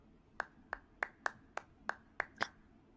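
A character in an Exit 8-style clone game claps steadily, eight crisp, evenly spaced hand claps at moderate loudness against a quiet background with no talking.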